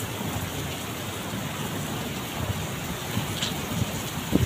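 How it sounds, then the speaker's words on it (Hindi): Heavy rain pours steadily during a storm, a dense continuous hiss of drops drumming on surfaces close by, with occasional louder splashes and no voices. "देखिए कितना तेज बारिश हो रहा है"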